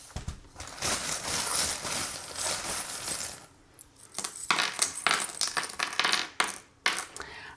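Divination charms are tossed during a card reading and clink together. A long jingling rattle shifts into scattered bright metallic clinks and taps, close and alone with no voices.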